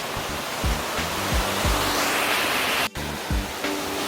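Yukdam Falls in Seoraksan, a waterfall over 40 metres high, rushes steadily nearby, a loud continuous roar with a few low thumps underneath.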